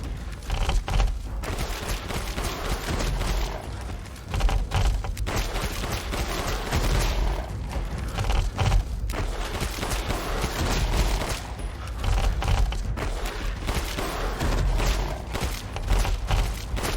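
Sustained heavy gunfire in Resident Evil Village on PC, a long run of rapid, loud, overlapping shots with short gaps and booming impacts, continuing steadily throughout.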